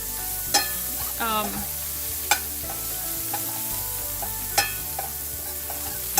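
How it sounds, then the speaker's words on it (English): Chopped cilantro stalks sauteing in a pan for a spicy Kerala jumbo shrimp chilli masala, a continuous sizzle broken by a few sharp spoon-on-pan clinks and scrapes, no talk. "I'm going to continue sauteing this for a few seconds before we add the rest of the ingredients."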